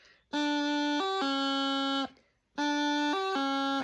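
A bagpipe practice chanter plays a steady reedy note, drops briefly through a quick G grace note to a lower C, stops, then repeats the same figure.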